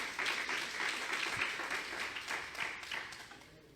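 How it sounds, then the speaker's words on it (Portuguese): Applause from a church congregation, a burst of many hands clapping together that holds steady and then begins to fade toward the end. "dá um aplauso ao Senhor, gente"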